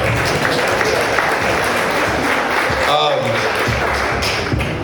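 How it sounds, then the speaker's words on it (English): Audience clapping at a celebration of life gathering, a steady round of applause close by, with voices and cheers mixed in throughout. "Oh, I should get a clap for that."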